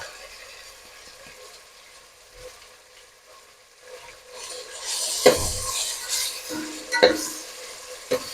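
Tomatoes and ginger garlic paste for a homemade chicken biryani sizzle in a pan, with the frying growing louder midway and a spoon scraping and clinking against the pot in a few sharp strokes.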